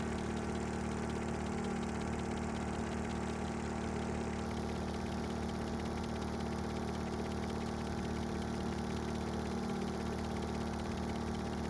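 Twin helicopter engines driving an eight-bladed rotor in the game Stormworks: Build and Rescue, a steady loud droning hum that runs unbroken and alone, with a slight shift in tone partway through.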